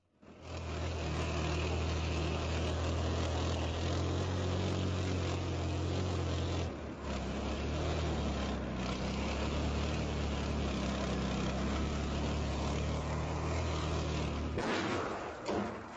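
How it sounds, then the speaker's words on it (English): A Russian BMP infantry fighting vehicle driving, a loud, steady engine drone with deep rumbling tracks that holds for the whole clip, with a brief dip partway through. "a Russian unbuttoned in a vehicle, a BMP specifically"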